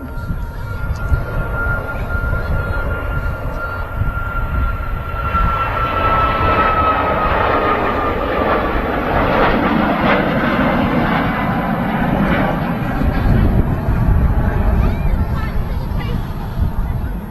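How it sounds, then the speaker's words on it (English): A Turkish Airlines Boeing 737 MAX 9 departs Manchester Airport with a loud, steady jet roar that builds and holds throughout, with voices talking underneath. "There goes the Turkish Airlines 737 MAX 9 aircraft on its way back, well, to Antalya"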